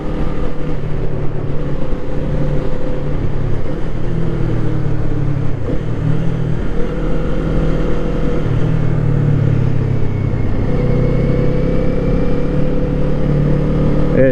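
A Kawasaki Eliminator motorcycle engine runs steadily while riding, a loud continuous low drone with shifting pitch as the revs rise and fall, with wind noise throughout.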